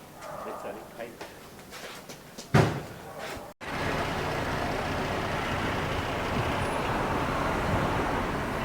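An emptied truck pulls away after unloading near a roadworks site; voices and a sharp door slam come first, then a steady, loud broadband rumble of engine and road noise carries on to the end.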